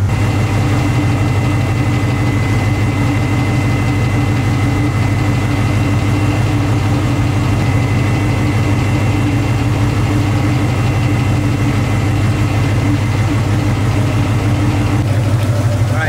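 A Nissan 350Z engine idles steadily after a coolant hose replacement, with a loud, close, constant low rumble and an even pulse that runs without a break.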